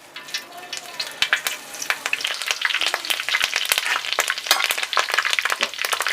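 Curry leaves dropped into about 300 ml of hot oil in a village cooking setting, crackling and spitting in a dense, rapid sizzle that builds and stays busy throughout.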